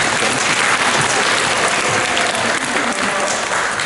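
Audience at a literary award ceremony applauding to thank a sponsor, a dense, even wash of clapping from a large hall crowd, loud and sustained throughout with no voices over it.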